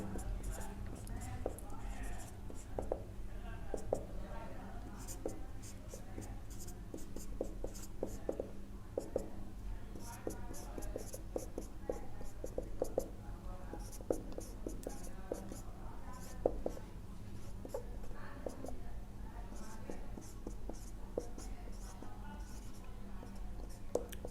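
Writing on a board during a percentages lesson, heard as soft, continuous scratchy strokes with brief taps, over a steady low hum and faint murmured speech.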